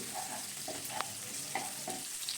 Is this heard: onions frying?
yes